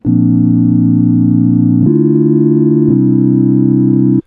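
A pure, smooth synth keys tone from an analog-style sine wave in Serum 2 sustains loudly, shifting between a few held chords with clean sine-like warmth and no other sounds.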